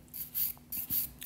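A nail file rasps along a fingernail while the nail is shaped to a square form, giving about four short, quiet, rhythmic scraping strokes with brief pauses between them and no talking.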